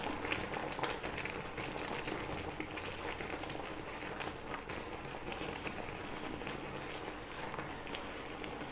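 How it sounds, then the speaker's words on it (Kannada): A ragi (finger millet) mixture boils on high flame, a steady, dense bubbling and popping that continues evenly throughout without any talk. "ಹೈ ಫ್ಲೇಮಲ್ಲಿ ಇಟ್ಟು ಕುದಿಸ್ಕೊಂಡು"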